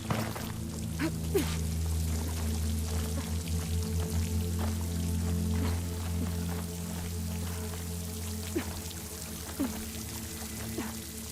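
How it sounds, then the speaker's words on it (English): Water pours steadily into a hollow wall in the video game Horizon Forbidden West, a continuous close splashing flow with scattered drips over a low background hum. "The water's flowing into the wall"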